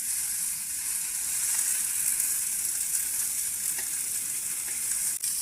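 Tilapia and small fish fry in a pan with a steady, dense sizzle and crackle that holds evenly throughout, with no voices.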